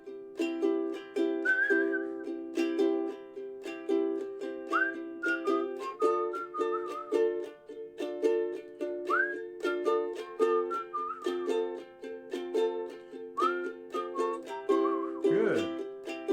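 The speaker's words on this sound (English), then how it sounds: "Keep going, let's whistle." Several people whistle a bright melody together over a steady ukulele strum playing a reggae-style chord progression, the whistled tune rising and gliding in short phrases throughout.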